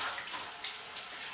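Warm tap water runs steadily over the brewing unit of a Bosch Vero Cup 100 coffee machine as it is rinsed in a sink. The hiss is close and continuous, with slight splashing changes and no talking.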